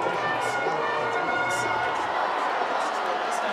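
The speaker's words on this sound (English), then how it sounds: "A lot of energy in this crowd tonight already." Football stadium crowd at a night high school game, Massillon Tigers against Austintown Fitch Falcons, roaring and cheering steadily throughout a short stretch, dense and loud with no pauses.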